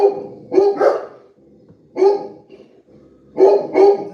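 Dogs bark in short bursts of two or three close, loud barks separated by brief pauses, with no voices heard.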